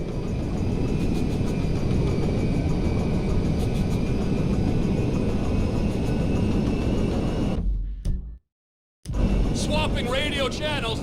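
In the video game GTA 5, a Merryweather jet comes in to land with a loud, sustained engine roar. The roar cuts to silence briefly, and then a voice speaks over the returning noise.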